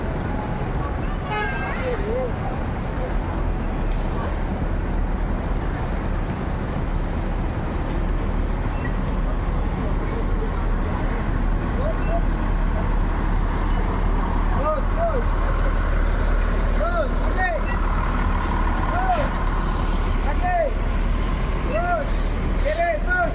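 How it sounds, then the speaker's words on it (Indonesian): A bus from West Sumatra pulls into Kampung Rambutan terminal amid steady traffic rumble, with a low engine drone, brief horn toots and squeal-like tones, while people talk in the background. "Unit ketiga masuk di Kampung Rambutan, bus dari Ranah Minang."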